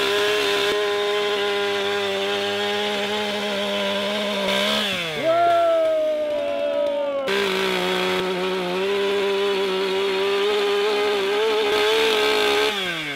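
Chainsaw ripping through a log at a sport lumberjack competition, a loud sustained motor whine that dips in pitch as the chain bites into the wood, then revs back up and keeps cutting steadily.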